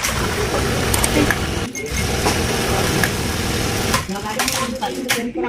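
A sewing machine with a thread-cutting fault stitches in a steady, loud mechanical whir, running almost continuously with a couple of brief pauses while people talk nearby.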